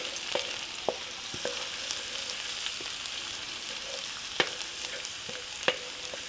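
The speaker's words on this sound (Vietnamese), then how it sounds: "Phi cho nó vàng thơm lên rồi mình mới cho mực vô nha." Minced shallots and garlic fry in hot fat until golden, the base for a mixed stir-fried noodle dish. A steady close sizzle runs throughout, broken by sharp clicks and scrapes of stirring, with no talk.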